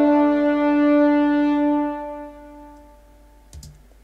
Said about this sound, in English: And the horns on their own sound like this.